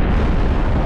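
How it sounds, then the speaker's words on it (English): In the Halo Reach campaign, a missile launch and blast make a short, loud, deep roaring boom that fills the moment and holds steady, as in a video game explosion. "Missiles away!"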